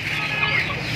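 Backyard chickens kept alongside turkeys cluck loudly and continuously at close range while pecking at tossed pea pods.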